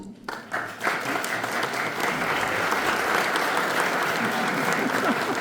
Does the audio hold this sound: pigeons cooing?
no